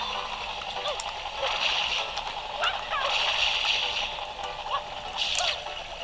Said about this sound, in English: another one of those annoying birds